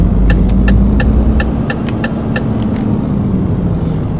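A Renault Magnum truck engine in Euro Truck Simulator 2 drones at a steady, loud idle, with a low rumble and a row of light ticking sounds over it.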